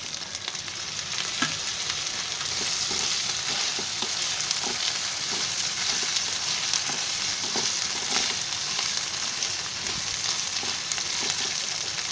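Chopped tomatoes hit hot oil in a pan with browned onions over a high gas flame for a sprouted moth bean curry. A dense, even sizzle continues throughout, with faint stirring ticks and no speech.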